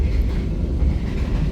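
The Dharmawangsa executive passenger train on the Surabaya–Jakarta line runs between Cirebon and Jatibarang, heard from inside the carriage as a steady, loud low rumble with faint rolling wheel noise.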